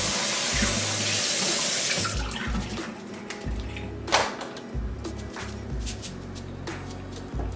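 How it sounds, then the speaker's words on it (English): Water runs and splashes steadily as rinse water is strained off rice into a bowl, with a few sharp clinks and drips near the middle; no one speaks. "just strain that nasty water off"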